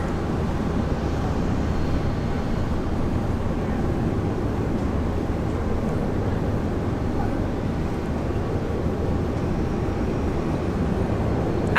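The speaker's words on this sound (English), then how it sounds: "This is Jetstar Flight 10 coming in from Tokyo, Narita." A Jetstar Boeing 787 Dreamliner arrives at Brisbane Airport, heard as a steady, moderately distant jet drone that continues evenly throughout, with outdoor background noise.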